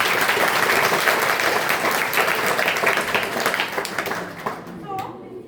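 An audience gives loud applause to a group of performers after a presentation, dense sustained clapping that tapers off near the end as a voice starts talking.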